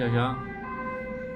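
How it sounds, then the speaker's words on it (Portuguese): An ambulance siren wails close by as it passes, its drawn-out tones shifting while someone talks over it. "Tá passando uma ambulância aqui"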